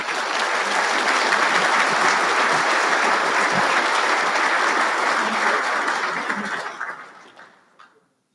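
Sustained, dense applause fills a banquet hall at a Marine Corps Association awards dinner, steady and loud for several seconds before tapering off and fading out near the end.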